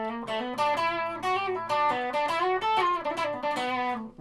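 An electric guitar played through a distortion pedal rings out in a run of sustained, harmonically rich chords and notes, fairly loud and alone, with no talk.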